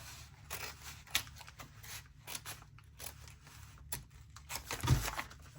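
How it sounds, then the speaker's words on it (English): Scissors snip through a paper bag in several irregular crisp cuts, with rustling and crinkling between them, close and fairly quiet. "So I'm gonna get my scissors down in there and just cut."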